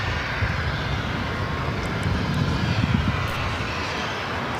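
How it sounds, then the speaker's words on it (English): All Nippon Airways Boeing 787-9 Dreamliner taking off at LAX, heard as a steady, continuous broadband jet roar with a deep low rumble and no pauses, fairly loud and holding at a constant level throughout. "This is All Nippon Airways Flight 5 taking off to Tokyo Narita on the 787-9 Dreamliner."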